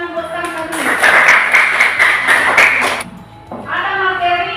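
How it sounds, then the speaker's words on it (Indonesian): A classroom of children claps for a student who just answered a number-line addition question, a brief burst of close, bright applause lasting a couple of seconds between a teacher's speech. "tepuk tangan buat Santa dulu"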